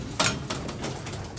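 A domestic pigeon kept by a fancier coos softly alongside its mate, a brief low murmur with a few faint pulses, close by and quiet.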